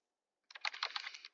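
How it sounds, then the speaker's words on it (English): Fingers type rapidly on a sticky computer keyboard, a short close burst of quiet clustered key clicks after brief silence. "I'm typing my answer here. This keyboard is still sticky."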